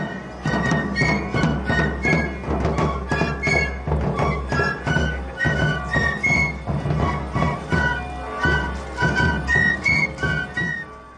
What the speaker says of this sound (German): Trommler und Pfeifer folgen in mittelalterlichen Kostümen.